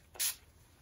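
One short, bright hiss of a makeup setting spray pump bottle, close up, lasting a fraction of a second against a quiet background.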